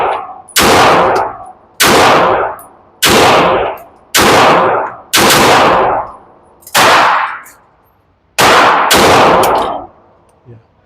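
Girsan Witness 2311 Match X pistol firing outdoors, eight loud sharp gunshots at uneven intervals, each with a ringing decay, two fired in quick succession near the end.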